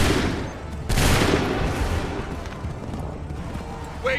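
Soldiers in Assassin's Creed 3 fire a loud musket volley of many overlapping shots that crack at once and trail into a long rumbling roll, followed by fading crackle and background battle noise.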